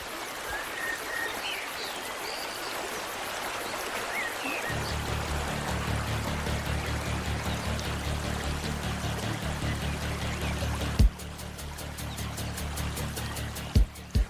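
Clear woodland stream flowing steadily, a soft broad rush of water that swells into a fuller, louder babble partway through, with a couple of brief knocks near the end.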